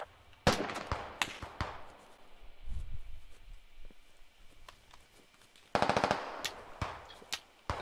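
Video game gunfire: a quick automatic burst near the start, scattered single cracks, then another rapid burst of close shots around the six-second mark, with lower rumbling between the bursts.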